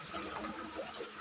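Water rushing through a pipe at a falls and swimming pool picnic spot in Northern Samar, a steady broad hiss and gush, fairly quiet and continuous for the brief moment with no voices.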